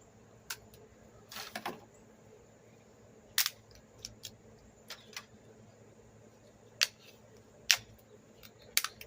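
Garden mushrooms being cut by hand, heard as a few sparse, sharp snips and clicks with quiet gaps between them, set against a low steady background.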